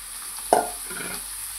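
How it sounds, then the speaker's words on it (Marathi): A spoon scrapes against a kadai with a single sharp clatter as beetroot and vegetables are stirred for pav bhaji, followed by softer shuffling and a faint sizzle, with no voices. "तर चला ते मी कढईमध्ये टाकून घेते"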